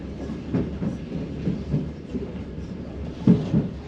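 A passenger train pulls out of Chelm, Poland, bound for Ukraine, rumbling steadily with soft rhythmic clicks and clunks of the wheels over rail joints, heard from inside the carriage at moderate volume.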